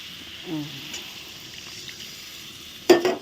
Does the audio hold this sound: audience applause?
no